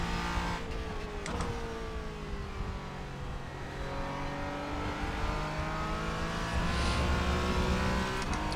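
A race car engine on track in the iRacing simulator, droning steadily with rising and falling pitch through gear changes and revs over several seconds, with no talk.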